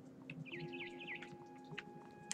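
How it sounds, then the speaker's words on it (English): A barn swallow chirps outside a window in the video game What Remains of Edith Finch, giving a quick run of bright warbling notes over a faint steady hum, quiet and alone. "Then I heard chirping outside my window."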